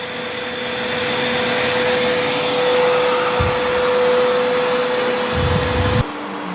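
An E28 robot vacuum's dock auto-empties with a loud, steady vacuum roar and a high whine, a strong continuous suction noise close by that cuts off abruptly near the end, leaving quieter hum.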